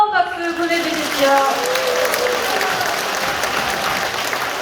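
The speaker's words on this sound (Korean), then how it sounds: "다시 한번 뜨거운 박수 보내주십시오" Audience applause at a People Power Party members' training gathering in Gumi, a dense loud burst of clapping that starts strong and gradually thins out.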